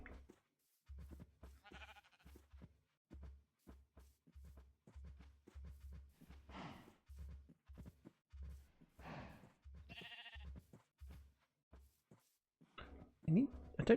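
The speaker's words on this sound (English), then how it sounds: "We have a sheep now as well." A sheep in a video game bleats a few times, faint and wavering, over a steady ticking of rhythmic game sounds.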